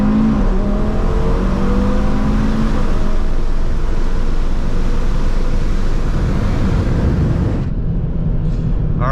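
A 600 hp Audi TT RS engine roars loudly up through the revs with tire spin at night, pitch climbing, then a shift into second gear before the sound abruptly cuts off near the end.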